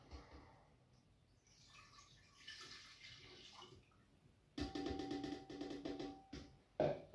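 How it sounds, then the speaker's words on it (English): Stock being poured into a cooking pot, a faint splashing pour that starts partway through and runs steadily before stopping, with some quieter kitchen background beforehand. "And we're just going to pour that into our pot."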